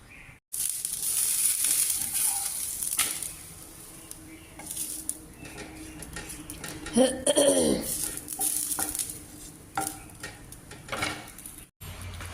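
Rotis frying in ghee on a pan, a continuous soft sizzle with repeated scraping and stirring noises, close by, and a short warbling tone partway through.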